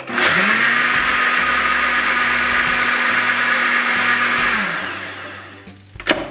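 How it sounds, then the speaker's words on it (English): A blender whirring coffee with brown sugar, a loud steady motor hum that starts at once, runs for about four seconds, then spins down, ending in a couple of knocks. "so you blend it for around 5 seconds"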